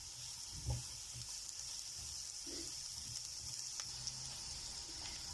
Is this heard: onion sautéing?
yes